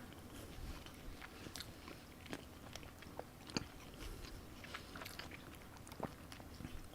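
Chicken wings with mango habanero sauce being bitten and chewed close to the mic, soft wet crunches and smacking in an uneven rhythm over low background noise, with no talking.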